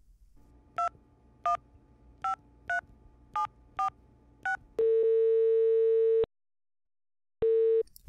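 A phone dialing in a stuck elevator: eight quick DTMF key tones in an even rhythm, then a loud, steady busy tone that cuts off and returns, close and clear with no voices.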